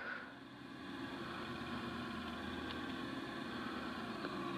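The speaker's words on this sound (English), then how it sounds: "I'm gonna park this tractor" Tractor engine idling in the video game Farming Simulator 19 while the vehicle parks, a quiet steady low hum and rumble that holds evenly throughout.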